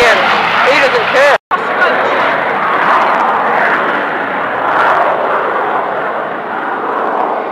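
Eurofighter Typhoon jet flying at RAF Coningsby, a loud, continuous roaring engine rush that holds strong throughout, with a brief cut in the sound early on; someone speaks over the noise.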